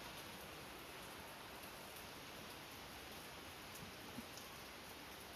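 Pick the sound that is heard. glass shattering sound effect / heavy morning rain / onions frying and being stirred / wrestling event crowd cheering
heavy morning rain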